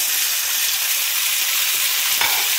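Tomatoes frying in a pan with light-browned onions and garam masala for potato tahari, making a steady, close, dense sizzle that holds evenly throughout with no talking.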